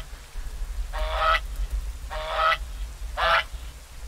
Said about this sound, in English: Ooh, a goose!